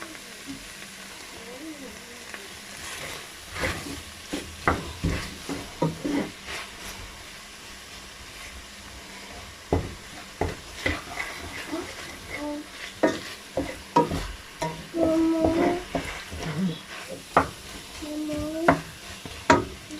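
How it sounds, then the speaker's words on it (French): Tripe sautés and simmers in a pan, a continuous low sizzle broken by repeated scraping stirs and clinks, growing busier toward the end, with faint talk at times. "Je vais encore laisser mijoter quelques instants, même 5 à 10 minutes"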